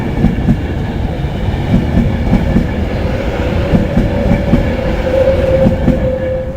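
Class 390 train at Birmingham International station, a steady loud rumble of rolling stock with rhythmic clatter of wheels over rail joints and a faint high whine, continuous and close throughout.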